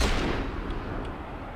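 A single heavy rifle shot from a sniper rifle in Sniper Elite 5 booms at the start, followed by a fading low rumble of echo.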